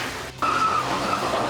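A car in a tense chase scene skids hard, its tires squealing in a steady high-pitched screech that starts abruptly and holds for about a second over a low engine rumble.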